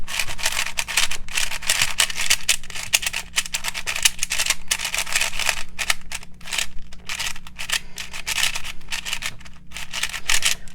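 A new 4x4 speed cube turned by hand, a continuous fast clicking and rattling of plastic layers, close and loud, with brief pauses between bursts of turns.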